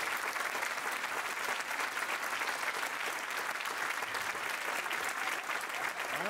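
Dense, sustained applause from a live audience at a French stand-up comedy show, a steady wash of clapping with no pauses.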